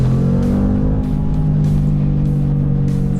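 A 2022 Mercedes-AMG G 63 with a 4-liter 577-horsepower twin-turbo V8 rumbles loudly and steadily at close range, its deep engine drone sustained throughout without voices.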